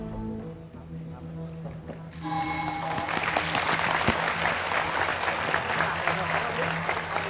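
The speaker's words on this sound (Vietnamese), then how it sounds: "có rất nhiều tiếng vỗ tay" Studio audience applause erupts on a televised quiz show, a loud sustained clapping that swells in after about two seconds of quieter background and holds steady to the end.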